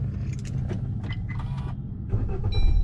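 Maruti car started with its push-start button inside the cabin, a whir of the starter and mechanisms ending in the engine catching into a low idle rumble.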